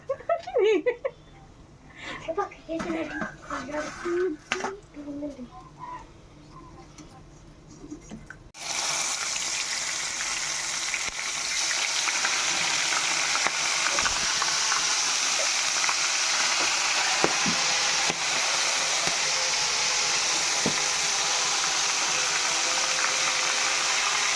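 Crabs drop into very hot oil and set off a loud, steady, close sizzle that runs without a break for many seconds. A voice talks briefly beforehand.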